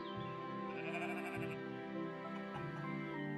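Sheep in the video game Equilinox bleat in a wavering, nasal call, clear and fairly close over a soft steady background tone.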